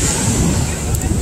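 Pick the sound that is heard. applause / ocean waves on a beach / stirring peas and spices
ocean waves on a beach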